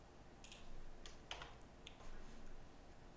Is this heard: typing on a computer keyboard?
yes